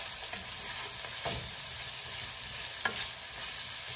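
A large batch of onions sautés in a pan, giving a constant close sizzle with soft scraping stirs and a couple of louder clacks from a utensil.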